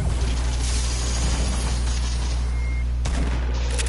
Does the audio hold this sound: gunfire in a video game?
yes